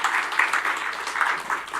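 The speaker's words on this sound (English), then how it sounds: "I think she deserves another round of applause." An audience at a presentation on a national e-commerce strategy for Trinidad and Tobago applauds, a steady patter of hand claps that is moderately quiet and continuous for the brief moment.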